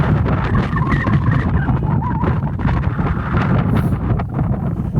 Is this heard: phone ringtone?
no